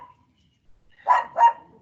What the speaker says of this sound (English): dog barking outside.